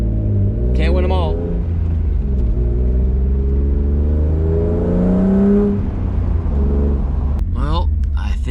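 A BMW E36 M3 with loud headers drives hard, its engine roaring and rising in pitch through revs in a close, loud in-car drone, with someone talking over it at the start and end.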